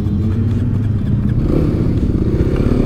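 A Kawasaki KLX 300 off-road motorcycle engine running rough and low before stalling out, loud and close with some clatter, no speech over it.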